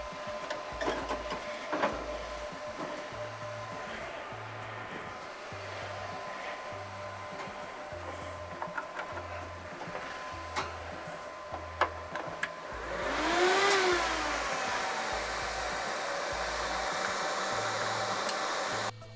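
A Bitmain Antminer D9 Dash crypto miner hums steadily indoors, a constant broadband fan whir with a rising swell partway through as it spins up, alone without talk.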